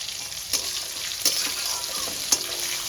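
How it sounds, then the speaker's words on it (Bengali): Whole spices sizzle steadily in hot oil for a Bengali fish-head and pumpkin-stem chhechra, with a constant hissing fry and a few sharp pops and clinks of stirring. "ফোড়নটা আমি ভালো করে ভেজে নেব।"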